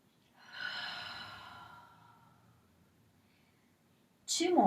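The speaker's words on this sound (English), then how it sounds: "Breathe." A single breath during a Pilates leg lift exercise, drawn out softly and fading over a couple of seconds, followed by a sharp, louder burst of sound near the end.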